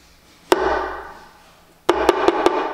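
Two potatoes rubbed together in a mock washing gesture, giving a dry scraping rustle: one sharp contact and a long fading scrape, then a second burst with several quick knocking strokes, close and clear.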